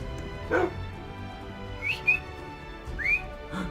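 A tamed wolf dog in Minecraft whines in short, high, rising whimpers, three separate cries spaced over a few seconds, close and clear with no talk over them.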